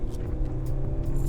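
Engine of a 2023 Mercedes-Benz GLC SUV with a 9G-tronic gearbox pulling hard under acceleration, a steady loud drone with rising revs heard from inside the cabin, no talking.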